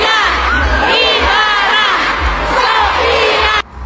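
Fans at a live celebrity fan event cheer and shout together, a loud, dense roar of voices that stays constant throughout before cutting off abruptly at the end.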